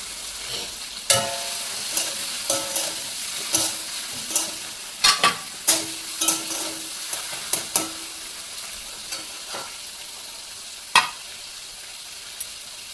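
Grated ginger and green chillies frying in a pan while being stirred, with a steady sizzle broken by a run of sharp scraping and clinking strokes, spaced irregularly and fading off toward the end; no talking.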